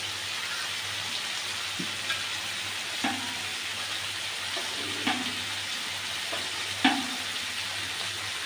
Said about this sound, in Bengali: এবার দিয়ে দেবো পরিমাণ মতো গরম জল।